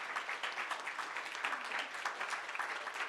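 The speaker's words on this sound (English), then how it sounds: "Big applause to Razom, to everyone who worked to put this together." Audience applause at a Ukraine Action Summit panel session, a dense, even wash of many hands clapping heard from a distance, fairly quiet and sustained throughout without speech.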